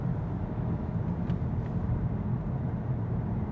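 A VW Golf Mk8 GTI cruising at low revs in sixth gear, a steady low interior drone of engine and road noise, even and moderately quiet throughout.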